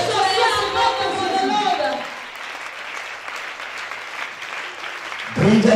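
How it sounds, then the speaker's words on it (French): A church congregation claps for Jesus during a prayer service, with loud, dense applause that holds steady for several seconds under a preacher's amplified voice before the voice returns alone. "clap your hand beautifully for Jesus"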